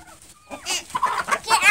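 Pastured free-range chickens cluck and squawk in a busy, rising chorus of overlapping calls, loud and close, with no talk over them.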